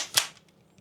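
A single sharp shot from a Krytac MAXIM9 airsoft pistol, close and crisp, with a short snap and quick decay and no voices.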